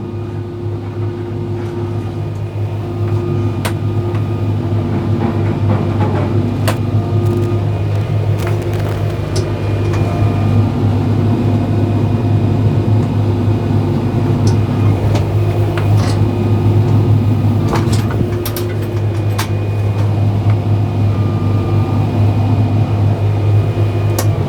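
A 72 inch Wicked brush cutter with a stuck, smoking clutch drones steadily and loudly close by, a constant mechanical hum with scattered clicks and knocks of brush being cut.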